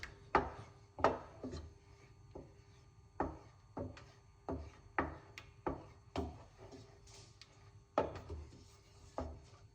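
Plantain fufu is stirred and pressed in a pot, giving a series of irregular thumping, scraping strokes about once per second, each a sharp knock trailing into a rub, close and fairly quiet.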